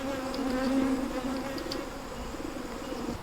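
Bees hum in a continuous, fairly close drone just outside a greenhouse, a steady buzzing with a slight waver and no talking.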